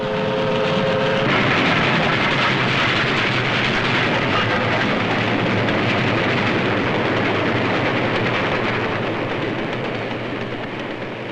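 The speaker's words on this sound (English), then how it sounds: "The men going to work can see the freight trains bringing in the raw materials: iron ore, coal, and limestone." Freight trains rumble past a Youngstown, Ohio steel works along the Mahoning River in 1944, hauling iron ore, coal and limestone as a steady, loud, continuous roar that fades slightly at the end.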